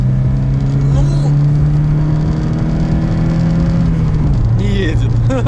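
Inside a used Chinese car with a knocking engine on a test drive, a loud steady engine drone climbs in pitch, with a shift in tone near the end, while people talk over it.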